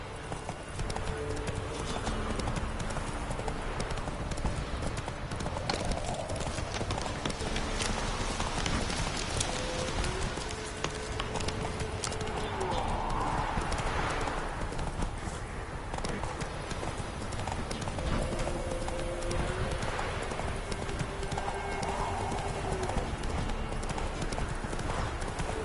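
Hooves of the horse Roach clip-clop steadily in a PS4 video game, an even trotting rhythm throughout, with ambient game sound and brief faint speech.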